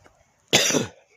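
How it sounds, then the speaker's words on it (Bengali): One person gives a single loud, harsh cough outdoors in a small date palm garden, with quiet surroundings before and after. "প্রচণ্ড পরিমাণে কাশি"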